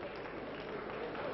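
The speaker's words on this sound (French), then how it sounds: "le public applaudit les deux hommes" Audience applauding two wrestlers at a professional wrestling match, a steady wash of clapping from the crowd that holds throughout without letting up.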